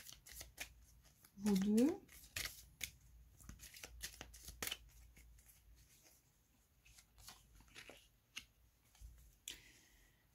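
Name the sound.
shuffling tarot cards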